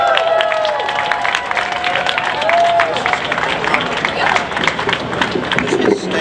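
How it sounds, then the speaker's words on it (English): A crowd at a political rally against the US war machine applauds Roger Waters, the former Pink Floyd bassist, with steady clapping continuing while a voice speaks over it. "everybody should give a round of applause to Julian Assange. And you'll want to keep clapping as we introduce Roger Waters"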